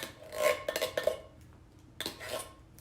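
Scraping and sliding clatter as a can of undrained kidney beans is emptied into a chili pot, two short metallic bursts close by and fairly quiet.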